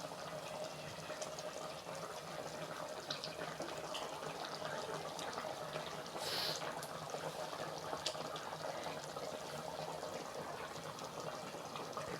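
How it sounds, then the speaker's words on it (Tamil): Mutton thanni kulambu, a thin Tamil mutton broth, boiling in a pot on a stove, giving a steady, close bubbling hiss that stays even throughout with no voices. "இப்போ மட்டன் தண்ணி குழம்பு கொதிச்சிட்டு இருக்குது"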